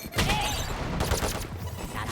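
Sustained bursts of automatic gunfire sprayed through a wall in a competitive first-person shooter match, loud and dense with overlapping shots across the whole span.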